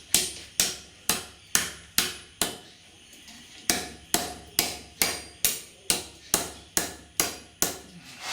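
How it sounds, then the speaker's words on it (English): A blacksmith's hammer strikes metal in a steady rhythm of sharp, ringing, close blows, about two per second, with a short pause partway before the regular pounding resumes. "those hammer heads are handy for this job"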